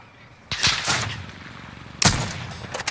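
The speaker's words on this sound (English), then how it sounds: "I'm running an SMG here, so I'm not gonna be able to hit anybody from far." SMG fire in a multiplayer shooter game, two quick bursts of rapid shots about a second and a half apart, loud and close over quiet background.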